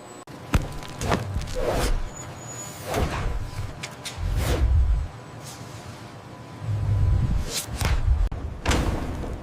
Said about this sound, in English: The chamber door sealed shut, severing the last connection.